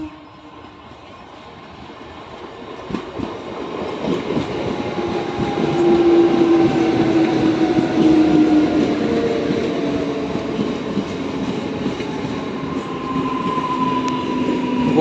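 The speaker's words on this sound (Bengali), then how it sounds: "সেই ট্রেন এই মুহূর্তে দেখছেন গোঘাট স্টেশনে ঢুকছে" A train pulling into Goghat station on the Tarakeswar–Bishnupur line, a loud steady rumble that builds as it nears, with rolling wheel noise and squealing, close by and without speech.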